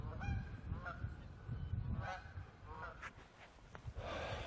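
Geese honk repeatedly in the open, a string of nasal calls spread over a few seconds amid outdoor background noise and wind.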